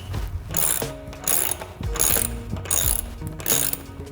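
A wrench ratchets a bolt with a washer tight while mounting a wall storage rack: close, loud bursts of rapid clicking in regular strokes with brief pauses between each pull.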